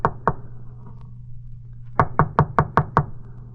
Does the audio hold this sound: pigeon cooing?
no